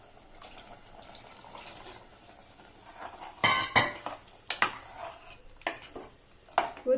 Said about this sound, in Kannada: ನೀರು ಹಾಕೋಣ ಇದಕ್ಕೆ